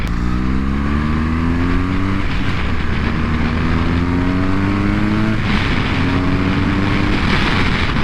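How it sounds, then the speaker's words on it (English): A 2015 BMW R1200 GS boxer flat-twin engine pulls hard while riding, its loud throbbing drone rising in pitch through repeated gear shifts, with wind rush and no talking. "the engine on here is unique. It has a boxer motor, a flat 2."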